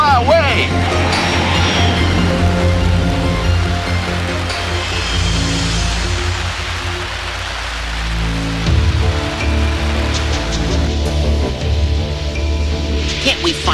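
Steady rain falls in an animated cartoon scene, a dense wash of patter running the full length under a busy soundtrack of music and voices.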